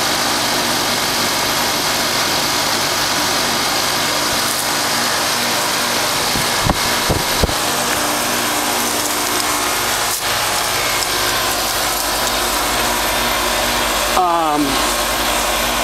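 A 1996 Carrier 5-ton straight-cool air conditioner runs outdoors at a gym in February, a steady mechanical drone with a constant hum, broken by a few brief knocks and a short rattling sweep near the end.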